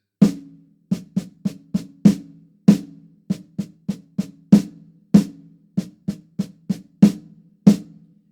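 Crisp drum stick strokes on a snare-like surface, alternating loud single hits and soft quick doubled hits in an irregular rhythm, close and fairly loud, no voices.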